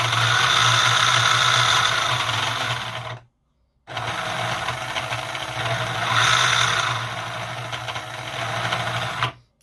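A remote-controlled tracked tank model with independent drive whirs as it drives and turns, its electric motors buzzing steadily and close, with a short pause midway and no talk.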